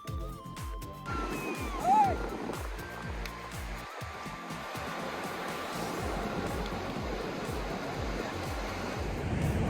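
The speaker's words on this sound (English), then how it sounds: "This beach is comparatively less crowded." Surf and wind at Tannirbhavi Beach, Mangalore, a continuous rolling wash of waves with gusty wind noise buffeting the microphone, steady and fairly loud throughout.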